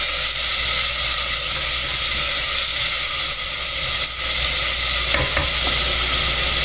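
Bacon crisps in a hot pan, giving off a loud, constant sizzling hiss that fills the space. A couple of brief utensil clinks sound near the end, and there is no talking.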